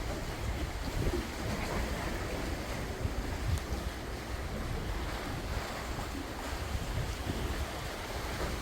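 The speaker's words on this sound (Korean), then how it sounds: "미세한 바람이 조금 불고 있고요." Gentle waves wash and steady light wind gusts across the mic at Daejin Port, a seaside fishing spot, a continuous broad rushing hiss with no voices.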